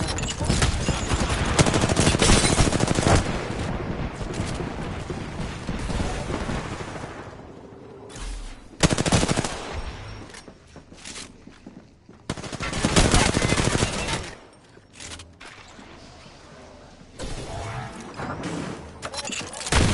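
Heavy weapon fire from a knuckle cluster in a video game, loud sustained bursts of gunfire-like blasts with short gaps between volleys, dense and close.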